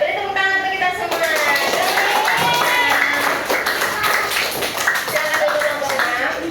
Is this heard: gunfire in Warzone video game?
no